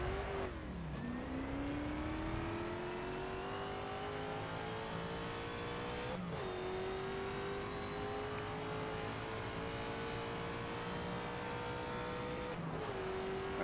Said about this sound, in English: Hopefully you can hear me over the engine.